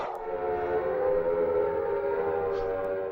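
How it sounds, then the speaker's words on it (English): An air-raid style siren from the video game Silent Hill drones loudly and steadily, a sustained wailing tone that holds throughout with no talking over it. "There's the sirens, which means we're transitioning once again."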